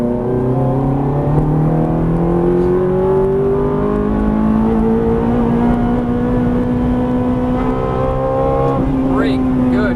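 Ferrari 430 accelerating hard on a race track, engine note climbing steadily and loud throughout from inside the car, with a driving coach talking over it.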